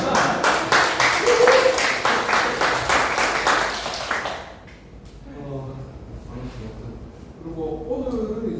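Clapping from a seminar audience at a Korean activists' basic training session, a dense, loud burst of applause lasting about four seconds, then fading into quieter room sounds with a voice beginning to talk.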